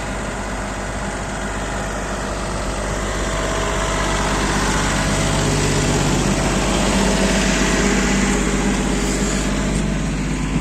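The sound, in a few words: Yanmar YB20 mini excavator engine running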